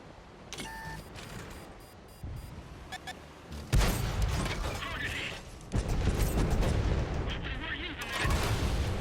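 The tank cannon of an M26 Pershing T99 fires in a video game with several heavy booms spread across the stretch, mixed with mechanical clanks and reload noises, and someone talks in between.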